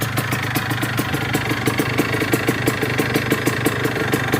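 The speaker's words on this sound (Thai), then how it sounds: "ให้ฟังเสียงเครื่องยนต์แล้วนะครับ" A 1998 Kawasaki KR 150 motorcycle engine with its original carburetor idles steadily up close, a continuous rumble with an even, rapid putter and no voices.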